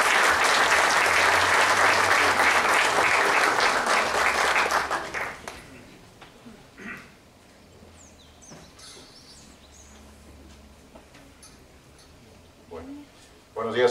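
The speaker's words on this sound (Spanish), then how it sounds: "Damos un aplauso de bienvenida." A church congregation applauding in welcome as the pastor comes to the pulpit, loud sustained clapping for about five seconds that then dies away to quiet room sound with faint stray noises.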